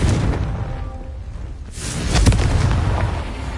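Confringo fire spell blasting in Hogwarts Legacy on PS5: a loud, broadband explosive burst with a roaring rumble, dipping briefly then swelling into a second heavy boom, with no talk.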